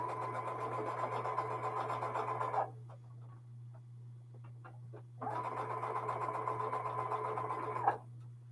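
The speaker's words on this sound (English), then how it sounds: "Okay, so now we sew our 9-patch." A sewing machine stitches a quilt 9-patch block in two steady runs of rapid, buzzing stitching separated by a short pause with light handling clicks, close and clear over a constant low hum.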